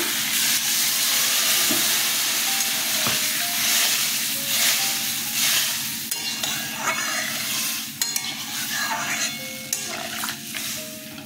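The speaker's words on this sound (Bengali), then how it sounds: "কষানো হয়ে গেছে, জল দিয়ে দিচ্ছি।" Water poured into a pan of frying drumstick-stem vegetables cooked with poppy seed and mustard brings loud hissing and sizzling, with stirring scrapes and clinks of a utensil, close up and sustained, slowly settling toward the end.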